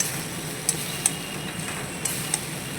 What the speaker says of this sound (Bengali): মশলার মধ্যে আলু বেগুন দিয়ে দিলাম, দিয়ে কষালাম ভালো করে।